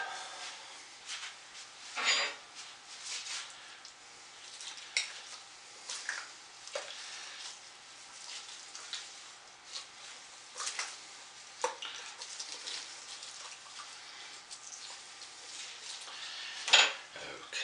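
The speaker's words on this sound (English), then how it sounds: "Let me clean my stick blender up." Scattered clinks and clatters of a stick blender being handled and cleaned during soap making, with small knocks against dishes and utensils throughout, close by and with no talking.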